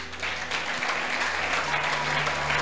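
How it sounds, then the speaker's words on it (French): A church congregation applauds during a pastor's sermon, a dense, continuous burst of clapping from many hands that fills the space evenly from start to finish. "Acclame-le."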